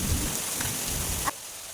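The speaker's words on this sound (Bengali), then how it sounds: "প্রচণ্ড জোরে বৃষ্টি হচ্ছে," Heavy rain pounds down in a dense, loud hiss on a rainy outing, then cuts off abruptly near the end, leaving a quieter wash.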